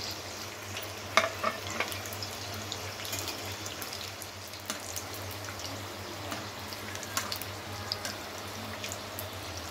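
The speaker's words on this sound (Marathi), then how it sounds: "आपण एक एक मोमोज सोडूया तेलात" Steamed veg momos deep-frying in hot oil, a faint continuous bubbling sizzle with scattered soft pops and clicks over a low hum, no talk.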